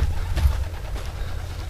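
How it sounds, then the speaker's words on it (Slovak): Released racing pigeons give low, soft coos close by over a dull rumbling background, a brief throaty call near the start and faint fluttery sounds after. "Holuby ale boli dodatočne vypustené a spájajú sa s krdlom."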